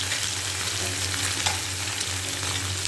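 Small fish fry in a generous amount of hot oil, giving a dense, continuous crackling sizzle heard close up and steady throughout, with no voices.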